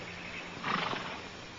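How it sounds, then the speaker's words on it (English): A horse gives a single short neigh partway through, fairly faint and set against quiet room tone, with no talking around it. "Beautiful horse."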